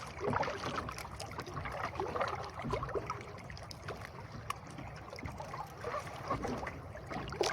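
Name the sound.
strong river current flowing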